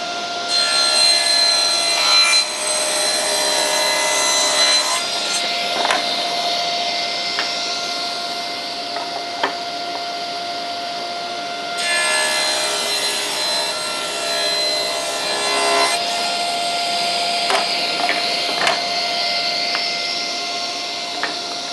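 A power saw with a set fence and its blade raised about half a tooth above the stock rips wood to size for a tool tote, its motor whining steadily and loudly through two long cutting passes with no talk.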